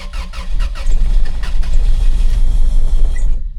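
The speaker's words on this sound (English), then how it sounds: "I think that's running on 3 cylinders" A 2000 Toyota Tacoma engine misfires while running on three cylinders, with a loud, rough, uneven low rumble close up that cuts off abruptly at the end.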